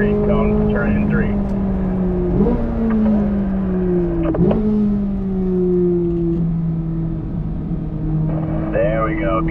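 A Corvette Z06 engine drones loudly through turns on a race track, its pitch sliding down and jumping back up with each shift and throttle change, while someone talks over it.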